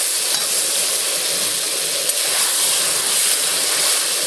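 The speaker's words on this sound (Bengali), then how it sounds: "আবার একটু নেড়ে নেব, এভাবে ভালো করে একটু ভেজে নিতে হবে।" Homemade mango pickle with salt fries and is stirred in a pan, giving a constant close hiss and sizzle with faint scraping and no talk.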